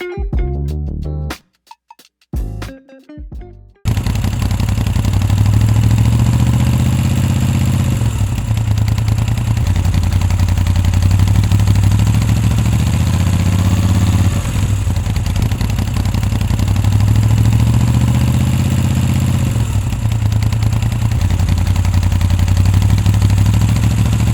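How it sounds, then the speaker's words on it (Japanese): A Moto Guzzi motorcycle engine fitted with a RAPiD BIKE EASY module idles steadily with a deep, throbbing exhaust rumble, close and loud, after a few brief clatters at the start. "アイドリング時の排気音が太くなり、 ハンドルの振動も増えています。"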